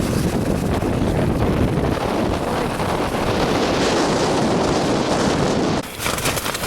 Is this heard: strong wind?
yes